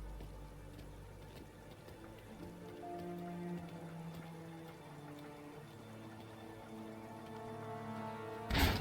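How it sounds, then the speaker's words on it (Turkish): Steady rain patters on a surface in the video game Mafia: Definitive Edition, under a low, sustained musical drone, with a brief louder burst at the very end. "Yağmurlu bir gün."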